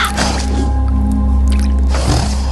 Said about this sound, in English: And a crow takes a drink from the water.